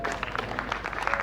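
An audience at an evening remembrance event claps in a brief, dense burst of applause, close and fairly loud.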